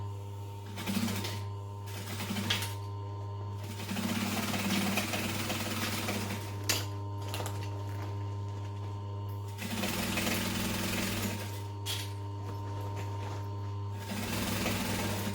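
A sewing machine stitches the seam of a tote bag in repeated whirring bursts a few seconds long, separated by short pauses, close up with no talking.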